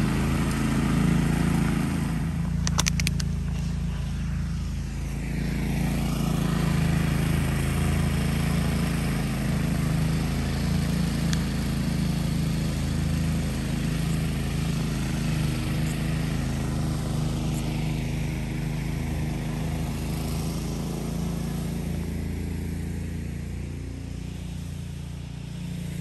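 A DR Field & Brush Mower runs steadily throughout, a loud, continuous engine drone with a low rumbling hum and no talk.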